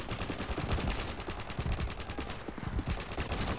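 Rapid gunfire in the Call of Duty MW3 video game, dense bursts of automatic shots rattling nearly nonstop at moderate volume, with a brief lull midway; no speech.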